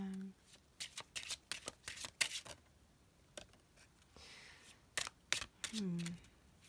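Crisp bursts of tarot cards being shuffled and riffled close by, irregular and fairly quiet, with short gaps between.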